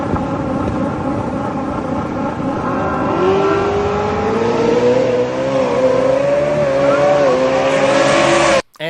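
Two 2024 Ford F-150 pickup trucks race side by side, their engines revving loudly together in a rising, sustained drone that climbs in pitch through upshifts before cutting off abruptly at the end.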